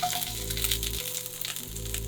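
Cauliflower sizzles briefly in an already hot pan, a loud, even frying hiss over a low steady hum.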